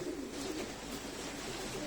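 Pigeons coo softly nearby over a steady background hiss, their low, throaty calls repeating without pause.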